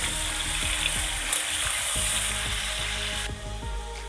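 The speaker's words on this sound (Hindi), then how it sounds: "अब मैं इसको फ्राई करता हूँ।" Chicken karahi fries hard in a pan, a loud, dense, continuous sizzle with occasional stirring knocks, close up and with no voices.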